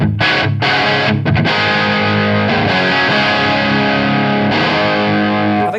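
Heavily distorted electric guitar through a Victory Super Sheriff VS100 amplifier with the presence turned up and reverb off, loud chords ringing and sustaining after a few quick choppy strums.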